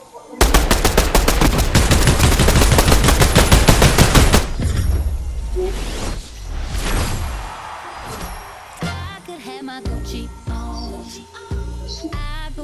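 Video-game gunfire in Fortnite opens with a long, loud burst of rapid automatic shots, followed by scattered single shots and other game sounds.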